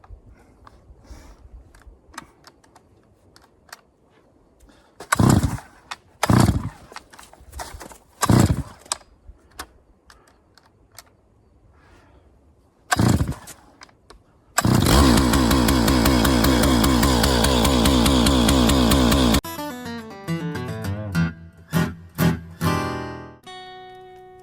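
Pull-start attempts on a chainsaw in the cold: a few sharp separate tugs and coughs, then the engine catches and roars loudly and steadily for several seconds before settling into a sputtering, uneven idle.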